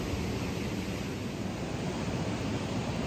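Ocean waves wash in a continuous, broad rushing roar at Albufera natural park in Mallorca, steady and fairly loud with no voices.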